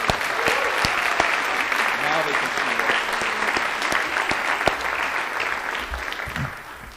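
An audience gives sustained, lively applause for school support staff, a dense, even clatter of many hands lasting the whole stretch, with a few louder claps poking through.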